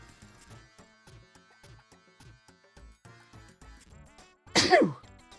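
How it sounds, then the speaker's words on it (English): A single loud, close sneeze bursts out near the end over quiet background music, sharp and breathy, after a stretch with no other voices. "Oh, sneeze."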